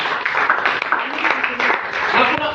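Church congregation clapping for Jesus during a Swahili sermon, a dense, steady wash of many hands throughout, with a voice talking over it.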